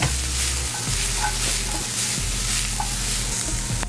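Veal Marsala sauce made with beef stock simmers and sizzles steadily in a pan, a close, continuous bubbling hiss with faint stirring scrapes and a low hum underneath.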